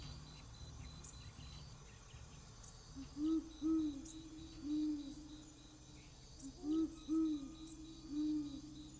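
A great horned owl in dense coniferous forest in Utah gives deep, soft hoots in two groups of three, slightly distant, with crickets chirping steadily in the background.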